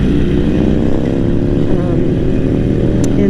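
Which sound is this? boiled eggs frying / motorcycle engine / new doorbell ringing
motorcycle engine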